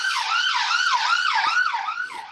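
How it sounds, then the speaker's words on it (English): A wailing siren rises and falls in a steady repeating pattern, loud and close as it passes, with a brief thump partway through. "You can hear a bit of sirens going past there."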